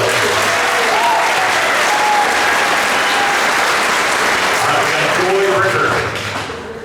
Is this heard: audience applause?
yes